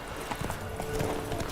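Roach the horse gallops in The Witcher 3, hoofbeats clip-clopping in a quick uneven rhythm at moderate volume over a steady background hum.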